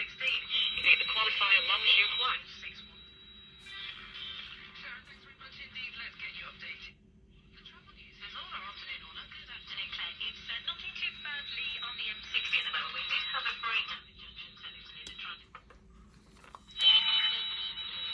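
A 1970s Hong Kong-made pocket transistor radio picks up crackly, hissy static with bursts of buzzing QRM interference, fading in and out in waves over a steady low hum, no voices.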